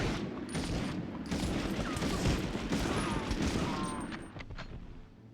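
Sustained, dense rifle gunfire in the 1999 Medal of Honor video game, a loud continuous fusillade of overlapping shots and echoing booms for the whole stretch.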